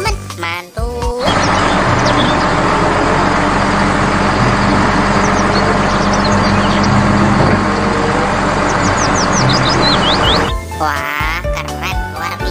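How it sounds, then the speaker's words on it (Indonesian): A tow truck passes at a construction site, a steady loud vehicle rumble lasting about ten seconds, with some tinkling and voice-like sounds over it. "Wah, ada truk towing teman-teman."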